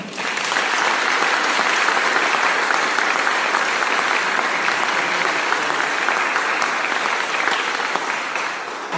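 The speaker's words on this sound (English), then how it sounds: "Please, a round of applause." Audience applause for Vietnam veterans at a military promotion ceremony, a steady dense clapping from a large crowd sustained loudly throughout without letup.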